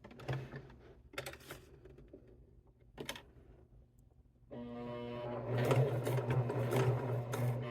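Sewing machine stitching a cork wallet near its edge, first in short separate bursts, then running steadily and loudly to the end, with a low motor hum underneath.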